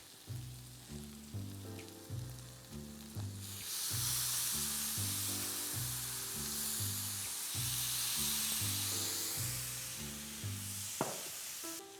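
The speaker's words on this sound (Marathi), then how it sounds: "आपण ना आता ह्याच्यावर थोडासा पाण्याचा हबका मारूया" Water hits chicken frying on a hot tawa and bursts into a loud, sustained sizzle and hiss that rises and later flares again, heard over quiet background music.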